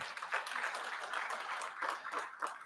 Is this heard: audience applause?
yes